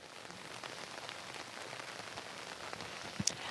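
Steady rain falls outdoors on an afternoon in rural Pickering, a continuous hiss of drops with a couple of sharper taps near the end.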